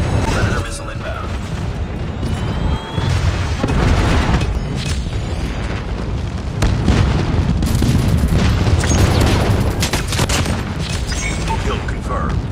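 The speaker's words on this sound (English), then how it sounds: "Predator missile inbound." Heavy in-game combat in Call of Duty Mobile on the Shipment 1944 map, with a Predator missile strike among continuous loud booms, rattling gunfire and blasts that stay dense and close throughout.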